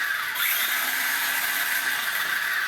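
A small HAIBOXING 1/18 all-wheel-drive RC truck with a brushless motor runs at low speed, giving a steady, close, high-pitched whine and whir that does not let up.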